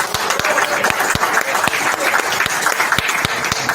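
Audience applause at an aerosol arts conference welcoming a DJ, a loud close burst of many hands clapping in a dense steady patter with a few sharper individual claps standing out.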